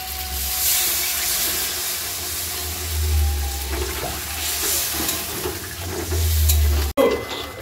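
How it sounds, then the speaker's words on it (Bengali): Spiced potato curry (aloo dum) frying in oil as water is added, giving a steady loud hiss and bubbling sizzle with stirring clatter and a sharp break near the end. "আর দিয়ে দেবো জল"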